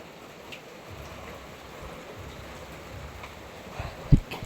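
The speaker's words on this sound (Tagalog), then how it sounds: "Mubunok po dyan yung uwan. Yan, tumutulo, oh, tumutulo." Heavy rain leaking into a store, a constant hiss of falling water with dripping beneath it and one sharper splash near the end, fairly close and with no talking.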